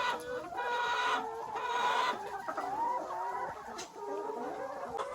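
Hens in an organic egg aviary cluck and squawk in a busy, continuous chorus, with occasional louder calls rising over the steady flock murmur and no one talking.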